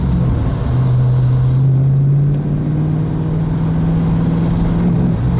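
A well-specified Rover V8 3.9 engine revs up steadily and holds a high, droning pitch, loud and close, with no voices over it.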